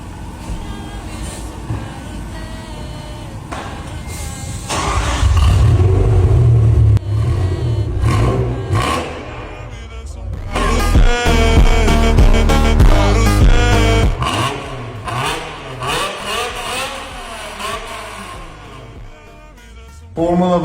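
An old BMW's engine revs hard in several loud bursts, climbing and falling in pitch between quieter idling stretches, with brief rattles in between.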